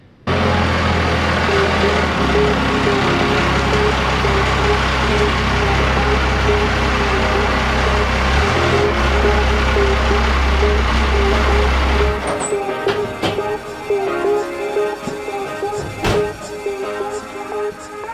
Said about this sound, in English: I'm gonna go ahead and pull the Cummins in right now